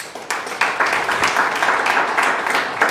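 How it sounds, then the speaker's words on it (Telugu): A church audience at an anniversary gathering for a youth meeting breaks into brief applause, a short burst of scattered hand claps that stays fairly steady for a few seconds, with no one speaking. "చప్పట్లు కొట్టండి గట్టిగా."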